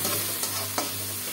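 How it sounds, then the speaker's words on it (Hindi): Coriander and fennel frying in oil for matar aloo pulao make a dense, close sizzle, broken by two quick stirring scrapes. "धनिया और सौंफ, इसे भी हम अच्छी तरह से फ्राई कर लेते हैं।"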